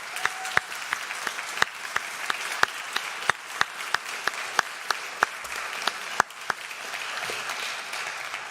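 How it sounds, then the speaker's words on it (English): An audience at a youth mental health forum applauds its panelists: steady, dense clapping at moderate volume with a few sharper individual claps standing out, fading slightly toward the end. "how about a round of applause for"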